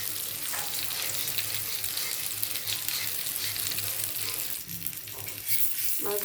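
Koi fish sizzle and crackle steadily in hot oil in a pan near the end of frying, a close, constant fizz with a few scraping stirs and no talk.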